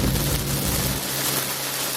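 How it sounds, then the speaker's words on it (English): Rain beginning to fall outdoors, heard as a loud, broadband hiss of drops with a low rumble that fades partway through, steady and close with no voices. "it's starting to rain"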